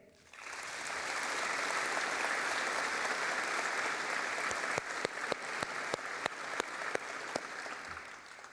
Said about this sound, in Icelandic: ég bið salinn að klappa fyrir þeim